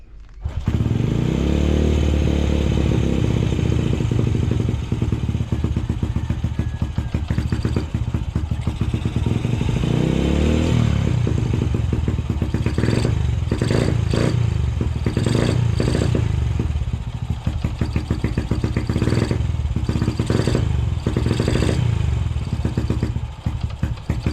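Honda Wave 100 motorcycle engine running steadily and loudly for the whole stretch, with clattering mechanical noise and brief revs layered over a continuous low drone.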